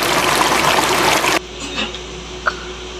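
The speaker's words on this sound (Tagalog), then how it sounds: "So, lalagyan natin ito ng tubig." Water pours into a self-heating rice container as a steady, hissing splash for over a second, then cuts off, leaving faint drips and small clinks.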